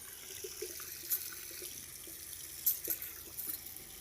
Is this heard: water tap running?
yes